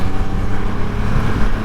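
Loud, steady engine and exhaust rumble from a 2024 Triumph Rocket 3 motorcycle being ridden, a continuous deep drone with no pauses and no speech.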